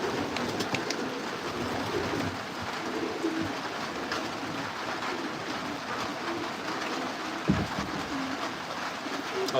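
Racing pigeons coo softly inside a breeder loft on a rainy day, with low murmuring calls over a steady background wash and an occasional faint knock.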